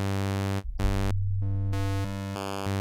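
A u-he Hive 2.1 software synth sounds a wavetable in cyclic mode with the sawtooth at the cycle's end, producing a loud, sustained buzzy tone that shifts timbre in several abrupt steps.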